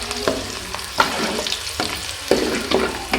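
Cumin, garlic and curry leaves tempering in hot oil for an amla pickle, a steady close sizzle broken by a few sharp stirring clatters, with no voices.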